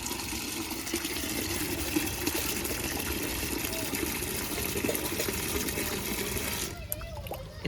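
Water pours steadily into a pot while a rose is being repotted, a continuous close gushing splash that stops abruptly near the end.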